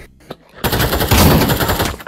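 A loud, close blast from a shotgun in the VR game Pavlov, followed by sustained harsh noise after a quieter lead-in.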